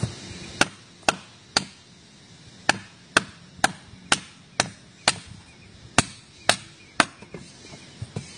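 A bushcraft knife chops into hard coffee wood in sharp, evenly spaced strikes, about fourteen solid thwacks at a steady rhythm, close and loud.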